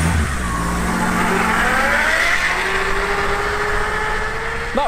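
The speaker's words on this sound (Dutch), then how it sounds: "De tandwielen die krassen langs elkaar. Je hoort ze kraken aan alle kanten." A car's gearbox strains and grinds as it is forced into reverse while moving at speed, a loud continuous engine roar with rising and falling whine close by.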